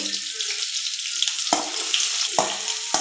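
Onion and four green chillies frying in a pan, a continuous close sizzle with a few sharp crackles and stirring scrapes.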